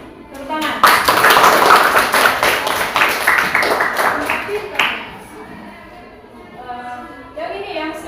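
Hands clapping together in a classroom, a dense burst of claps lasting several seconds before fading into children's chatter, with a few claps returning near the end.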